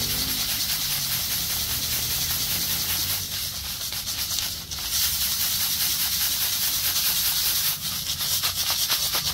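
A glass bottle holding sand, soap and water shaken hard to clean it, giving a steady loud gritty swishing hiss that continues without pause, close up.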